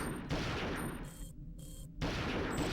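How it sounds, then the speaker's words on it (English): Assault rifle fire in a video game, a dense rapid burst of shots that fills the mix, briefly pauses for reloading gaps, then resumes loud and continuous. "I'm just going to use the rest of my AR ammo."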